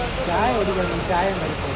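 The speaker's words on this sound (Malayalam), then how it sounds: "നമ്മൾ മഴയൊക്കെ കാണാനായിട്ട് പുറത്ത് വന്നതാണ്" Rain falls in a loud continuous hiss while a person talks over it nearby.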